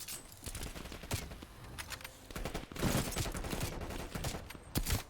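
Dense gunfire from the Call of Duty Black Ops Cold War campaign, with bursts of automatic and single shots crackling almost continuously for about five seconds, loudest in the latter half.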